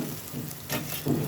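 Onions and spices frying in oil in a pan for egg-stuffed capsicum curry, giving a steady, moderately loud sizzle with a few brief swells.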